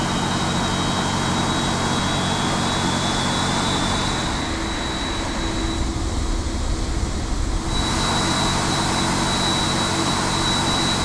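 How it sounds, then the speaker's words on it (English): Jet engine on a PMDG 747-400 in the Prepar3D flight simulator, engine number 4 spooling up at start: a steady, loud whine and rumble with high tonal hum that holds throughout, no talk. "Okay, engine number 4 is now spooling."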